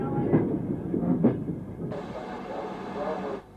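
A steam-era train, with a BR Standard Class 2 locomotive and an Esso tank train nearby in the sequence, rolls along the rails, with a steady rumbling run and a brighter burst of wheel and wagon noise partway through.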